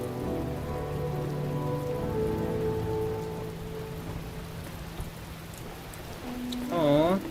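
Steady rain pattering on surfaces in the video game The Talos Principle, a constant close hiss with a brief musical tone swelling near the end.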